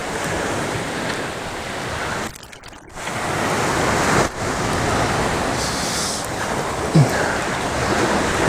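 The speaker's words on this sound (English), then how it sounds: "Still got that nice swell rolling, stirring it up." Ocean swell rolls onto a local shoreline where someone is fishing, making a loud, steady wash of surf with wind buffeting the microphone and a brief dip partway through.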